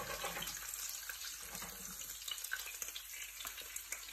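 Bacon and eggs fry in a pan at breakfast, a soft, continuous crackling sizzle with scattered pops, faint and close, without talk.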